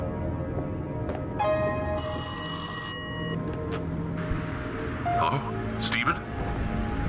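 A telephone rings in the horror video game Rise of Insanity, a tonal electronic ring repeating over a dense, low ambient drone, with a voice speaking over it.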